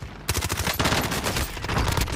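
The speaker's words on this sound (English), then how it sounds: "MP5 hip fire him." MP5 submachine gun hip-fired in Call of Duty Warzone: rapid, loud bursts of automatic gunfire starting after a brief pause and continuing in dense, overlapping volleys to the end.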